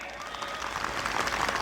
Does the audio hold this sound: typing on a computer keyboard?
no